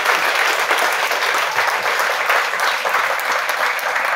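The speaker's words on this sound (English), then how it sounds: "You gotta give him a round of applause." A crowd applauding steadily, dense clapping filling the whole stretch at a constant loud level with no voices standing out.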